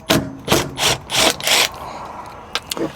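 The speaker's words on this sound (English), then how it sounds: "I'm going to use my 10mm and just unscrew that" A socket head bolt on a Toyota 4Runner being unscrewed with a 10mm socket gives five quick, rhythmic rasping bursts close by, then a quieter pause with a few short clicks.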